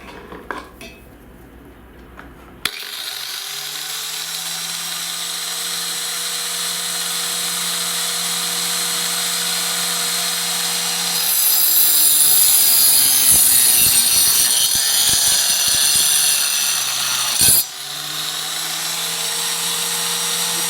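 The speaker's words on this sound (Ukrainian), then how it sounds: "І спробуємо врізати декілька заготовок, щоб ви могли побачити, як воно працює. Так, запускаємо." A homemade miter saw built from an angle grinder spins up with a loud, steady whine and cuts through wooden workpieces, the pitch roughening during the cut before the motor runs freely again.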